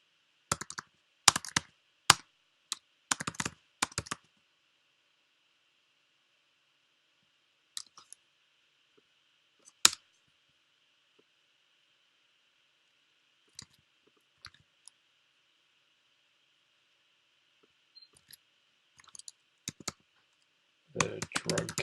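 Bursts of fast typing on a computer keyboard while writing up a research paper, quiet clicking clusters separated by long silences, with a faint steady hum beneath.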